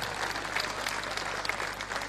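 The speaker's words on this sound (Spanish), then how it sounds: "Con el aplauso." An audience at a tribute event in Mburucuyá breaks into sustained applause, a continuous wash of many hands clapping heard from a distance, fairly quiet and even throughout.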